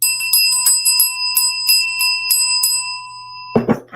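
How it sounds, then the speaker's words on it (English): A hand bell is rung in quick repeated strokes, bright ringing chimes overlapping for several seconds, loud and close, then a voice speaks briefly as the ringing fades. "I definitely need to ring this bell"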